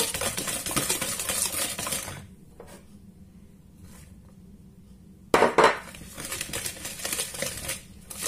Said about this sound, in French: et on mélange bien